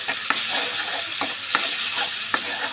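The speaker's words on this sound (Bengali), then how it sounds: "পেঁয়াজ বাটার টমেটো পেস্ট দিয়ে একটু নেড়ে দিতে হবে" Onion paste and tomato paste being stirred in a frying pan for egg korma, a soft continuous sizzle broken by several sharp scrapes of the spoon against the pan.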